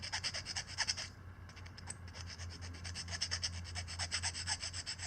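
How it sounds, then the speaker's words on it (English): Hand filing burrs off a fabricated metal catch-can bracket for a KLX140 mini supermoto build, a steady rhythmic rasping of repeated strokes, close and fairly quiet, with a brief pause partway through. "So I want to go clean out the burrs here."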